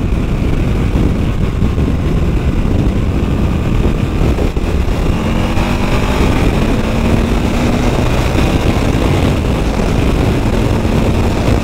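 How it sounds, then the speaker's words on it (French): Loud, constant wind buffets the microphone on a moving motorcycle, mixed with a steady engine drone, with no talking. "Il y a un peu de vent, j'avoue."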